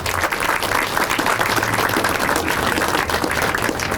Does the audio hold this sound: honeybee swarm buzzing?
no